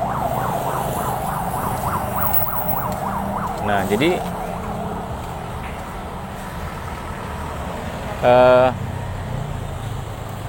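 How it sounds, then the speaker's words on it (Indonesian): An ambulance siren passes along a roadside, wailing in quick repeated rises and falls over steady traffic noise, then fading away. A brief horn blast comes later, and someone speaks briefly. "Jelas ini ambulans dari mana nih?"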